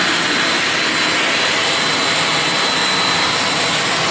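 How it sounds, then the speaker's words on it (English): Steam hisses steadily from the safety valve of Shay locomotive #9, a loud, dense, unbroken rush of noise heard close up throughout. "That's the safety valve. You hear the feathering."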